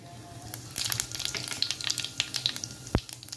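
Cumin seeds crackle and sizzle in about three ladles of hot oil in a kadhai, a dense run of sharp close pops over a low steady hum, with one louder burst near the end.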